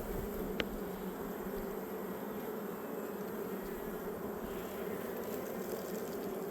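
Honeybees of a very small late-season hive hum in a soft, constant buzz, steady and close throughout without talking, with one brief tick early on.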